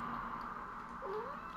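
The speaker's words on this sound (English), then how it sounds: "My cat agrees." A house cat lets out a single short, faint meow partway through, set against a steady background hum.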